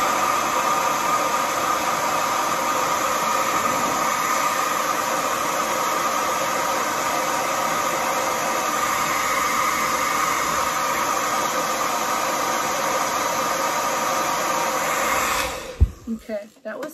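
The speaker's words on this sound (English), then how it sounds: "And then you take your blow dryer. Let's put it on hot and on high." Hair blow dryer set to hot and high, blowing to heat an eyelash curler: a loud, steady whooshing roar held for about fifteen seconds before cutting off with a few handling clunks, with a voice talking over it.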